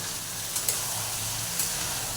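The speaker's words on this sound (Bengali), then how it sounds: "এবার আমি চিকেনটাকে ভালো করে কষিয়ে নেব।" Chicken sautéing in a pan, giving a steady broadband sizzle and hiss that holds even throughout, with a couple of faint clicks from stirring.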